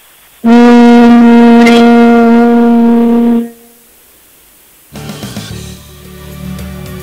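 A loud, steady low hum from a voice during bhramari yoga breathing holds for about three seconds, then stops, followed by softer rustling.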